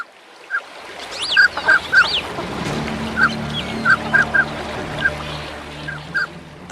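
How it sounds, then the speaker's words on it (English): Mandarin duck in the wild Siberian setting, giving a series of short honking calls in irregular bursts, fairly loud and near, over a steady background hum. "The mandarin duck, knowing that Mother Nature has been generous with its appearance but not with its combat skills"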